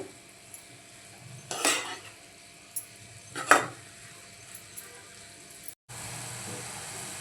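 Red amaranth bhaji, Malvani style, being stirred in a pan: two distinct bursts of scraping and clinking about two seconds apart over a quiet background, close and moderately loud.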